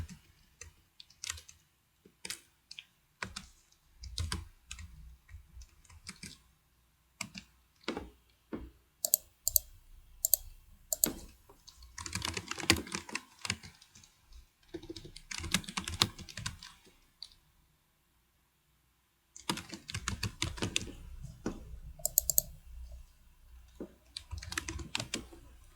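Someone types data on a computer keyboard, producing close, crisp key clicks in irregular runs and bursts, with short pauses and one longer silent gap before typing resumes.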